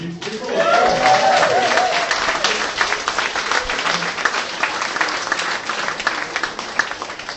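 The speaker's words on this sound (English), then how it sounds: "A round of applause for SFX." Applause from a crowd rises quickly and continues steadily, with a voice briefly audible over the clapping at the start.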